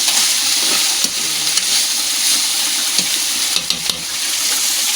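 Garlic, onion and atchara sizzle steadily in a hot pan with occasional stirring scrapes, a continuous close frying hiss with no talk.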